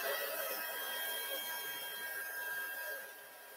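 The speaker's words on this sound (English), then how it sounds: "now we are going to heat emboss this again." A heat gun blows steadily during heat embossing for a batik technique, giving a continuous close whooshing hiss that eases off slightly near the end, with no talking.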